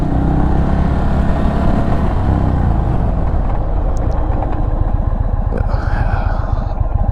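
A 2022 Indian Chief Darkhorse cruiser motorcycle engine roars steadily and close, rumbling with rising revs as it picks up speed, wind noise over the top.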